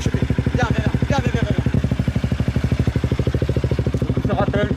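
Motorcycle engine idling close by, a KTM or BMW, with a steady rapid low pulsing throb running throughout, plus short bursts of people talking over it.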